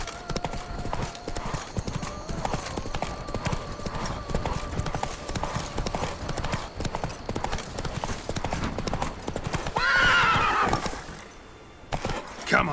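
Roach, the horse in the video game The Witcher 3: Wild Hunt, gallops with rapid rhythmic hoofbeats over a steady ambient bed, then gives a loud whinny near the end.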